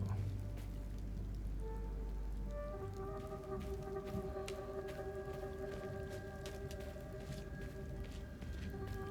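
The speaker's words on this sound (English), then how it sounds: "That's a nice rain sound effect." Steady rainfall in the video game Hell is Us, a dense, even patter on surfaces with a few faint tonal ambient notes drifting over it, constant and close throughout.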